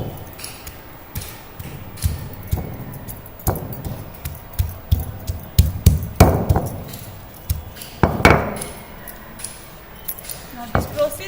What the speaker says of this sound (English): we have to pound the pieces of adrak using mortar and pestle till it converts into a fine